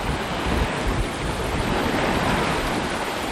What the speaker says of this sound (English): You can see it's pretty seething a little bit. The sea seething.